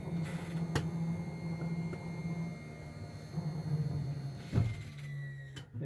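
An RV slide-out room retracts across carpet, giving a steady low motor hum with a faint sliding drag and a brief clunk near the end as the room lifts slightly.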